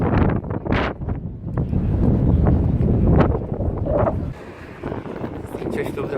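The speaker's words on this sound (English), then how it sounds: "It is so windy today, it's hard to record clear sound." Strong wind blows beside the River Thames, buffeting the microphone with loud, gusty low rumbles that rise and fall over several seconds, faint background sounds beneath.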